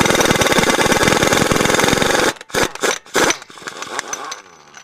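A loud, continuous mechanical roar from a heavy-duty impact wrench with rapid hammering pulses for two seconds, then several sharp bursts as the nut breaks loose on a 2003 Dodge 2500, trailing off into quieter rattling.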